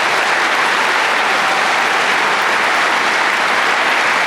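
Dense, steady audience applause fills a graduation commencement ceremony as scholarship recipients are honored, loud and unbroken for several seconds with no voices over it.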